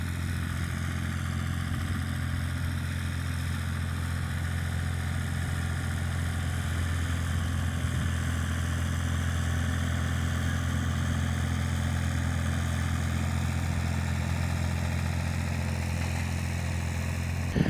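A low, heavy engine idles steadily throughout, a constant rumbling drone with no speech and no change in pace.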